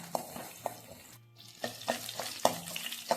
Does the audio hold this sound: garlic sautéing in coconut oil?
yes